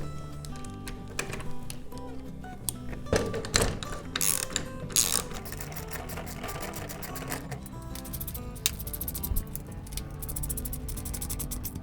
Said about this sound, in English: I do have to take the Allen wrench from the bottom and while I tighten from the top